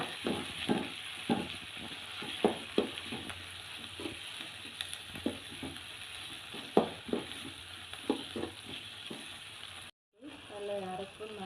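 Sizzling from a hot pan, with repeated scraping and stirring strokes as onion and tomato sauté for a Tamil lentil-ball kuzhambu; a short break near the end.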